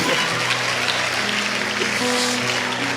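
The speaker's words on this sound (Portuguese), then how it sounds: "Boa, pode aplaudir." Audience applause in a church congregation, a steady dense wash of clapping filling the room at full level without a break.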